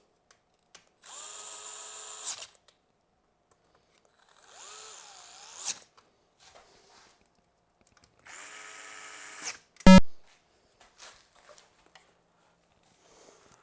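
A DeWalt power drill drives screws into the frame of an Algolaser Alpha 22-watt laser engraver in three separate whirring bursts, each about a second long and ending in a sharp rising whine as the screw seats, with quiet pauses and small clicks between.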